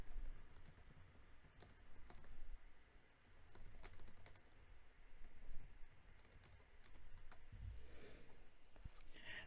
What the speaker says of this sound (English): I'm just gonna type that in the chat too.